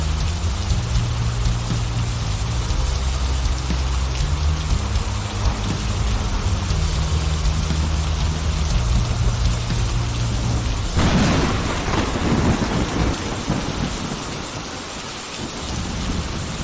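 Heavy rain pouring steadily in a video game night scene, a dense continuous roar with deep rolling thunder rumbling underneath and a louder thunderclap crack partway through.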